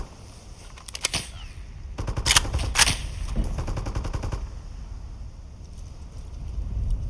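Bursts of machine-gun fire rattle in a military shooter game, rapid repeated shots in clusters followed by faint distant pops over wind-like background, no speech.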